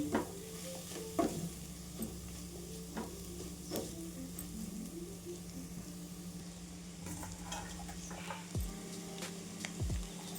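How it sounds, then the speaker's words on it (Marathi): Okra frying in a pan with oil for okra rice, a steady sizzle running throughout, broken by repeated scraping stirs of a spoon against the pan, close and fairly loud with no talking. "भेंडी पण छान आपण फ्राय करून घेऊ छान परतून घ्यायचं भेंडी नरम होईपर्यंत"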